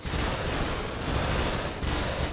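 Dense, continuous gunfire while shooting enemies in the VR game Superhot VR, a steady loud barrage of overlapping shots with no clear gaps.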